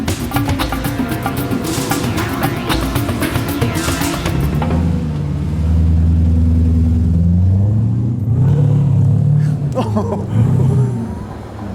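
The one-off Jaguar XK180 sports car's engine idles and then revs up into a deep, steady rumble that swells and settles, close by, with voices talking over it early on.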